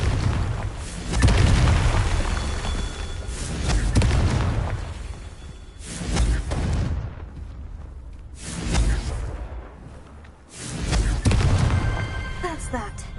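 Fire-spell explosions in Hogwarts Legacy, a series of four or five deep booming blasts with whooshing tails spaced a few seconds apart, loud and close, with a voice talking between them.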